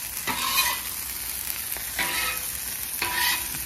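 Chicken wings sizzle and fry in garlic parmesan butter on a Blackstone griddle, a steady close crackle swelling in three bursts as they are stirred and turned, with no voices.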